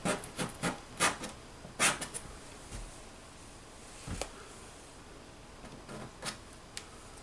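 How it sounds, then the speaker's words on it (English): Scraping into wet watercolor paint on paper, soft close scratchy strokes in short irregular bursts with quiet gaps between them. "get a little bit of a scraping going on"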